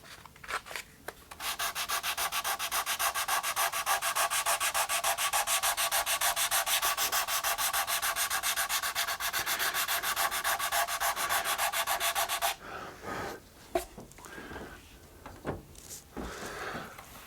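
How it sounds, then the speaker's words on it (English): A hard sanding block scrubs steadily across a wooden guitar top, a loud continuous rasp for about eleven seconds, then stops, leaving scattered quieter scrapes and handling noises. "instead of the flexible foam pad, I'm going to use just a hard sanding block"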